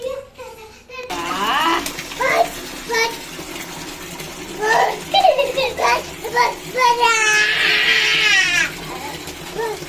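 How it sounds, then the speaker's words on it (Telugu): Water pouring and splashing into a tub for wind-up frog and turtle bath toys, gurgling and sloshing under frequent talk from an adult and a child. "వాటర్ వేసి చూద్దాం"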